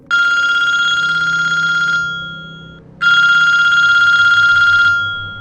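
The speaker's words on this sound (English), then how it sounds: "the phone rang." A telephone bell rings loudly at night in two long bursts of rapid metallic trilling, separated by a short silence, with no voices.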